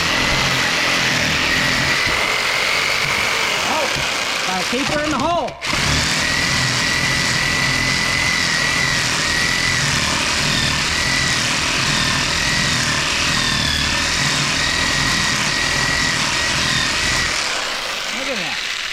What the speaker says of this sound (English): Let's get the jigsaw out.